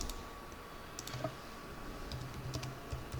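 Keys on a computer keyboard are tapped in short irregular bursts, a handful of soft clicks early on and a quicker run near the end, close and fairly quiet over a steady room hum.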